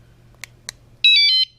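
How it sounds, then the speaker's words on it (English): A WSDCAM bicycle alarm horn kit gives a single short, loud electronic beep with a warbling two-tone pitch, preceded by two faint clicks as a button is pressed. "Then give it a few seconds, it'll give it a second beep."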